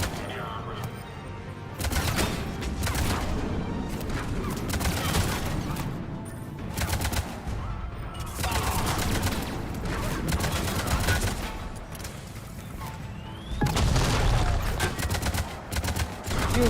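Rapid gunfire crackles in Mass Effect 3 combat against shielded enemies, with sustained bursts and volleys repeating loudly across the whole stretch, mixed with game sound effects and occasional voices.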